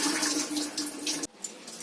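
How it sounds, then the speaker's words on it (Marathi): Water is poured off soaked rice in a kitchen, a steady rushing splash that stops abruptly, followed by a few fainter trickles and drips. "आता मी पूर्ण पाणी काढून टाकते."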